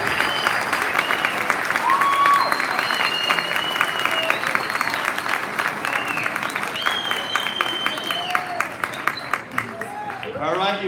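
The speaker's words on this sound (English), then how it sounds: "Now we can applaud." Audience applause at an 8th grade promotion ceremony: sustained clapping from a large crowd, with whistles and cheers rising over it and a few louder claps standing out toward the end.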